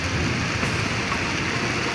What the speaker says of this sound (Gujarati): બરફના કરા અને વાવાઝોડા જેવા પવન સાથે ધોધમાર વરસાદ તૂટી પડ્યો છે